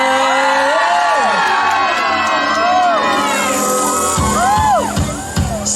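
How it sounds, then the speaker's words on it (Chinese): At a Lantern Festival concert in Yuanlin, Changhua, the crowd screams, whoops and cheers loudly and without pause, with high shrieks stacked over the din and sharper shouts near the end. "尖叫声在哪里呢？"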